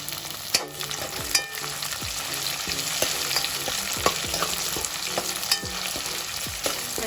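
Curry leaves and chopped tomato frying for misal pav, with a bright crackling sizzle broken by repeated scraping stirs of a spoon in the pan, close and moderately loud, no talking.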